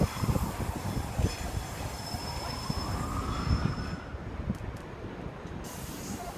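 Indian Pacific train hauled by locomotive NR45 pulling away, a steady rumble of rolling wheels and railcars with faint wheel squeal, near and continuous with no talk.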